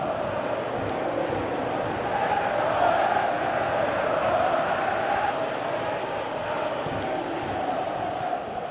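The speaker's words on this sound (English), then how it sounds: "Crowd calling for him to shoot." Virtual stadium crowd in PES 2018 during a Tottenham versus Manchester United football match, a continuous loud roar of cheering and chanting that swells slightly midway, heard alone throughout.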